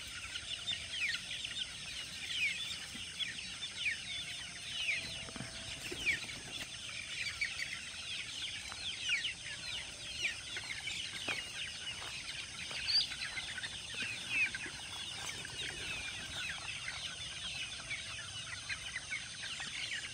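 Chickens clucking softly in the distance over a constant outdoor hiss, with scattered faint bird calls and no talking.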